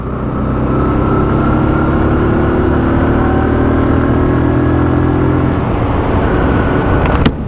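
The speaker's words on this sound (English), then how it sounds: "it means you get to hear a bit of engine as well." A WK Scrambler 125cc motorcycle engine holds a loud steady drone while being ridden, its pitch climbing gradually before dropping near the end as the revs fall.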